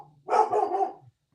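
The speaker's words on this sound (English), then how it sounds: "Y'all see I got a big old dog over here?" A big dog lets out a single deep, loud bark close by, lasting under a second, with a faint low voice murmuring just before it.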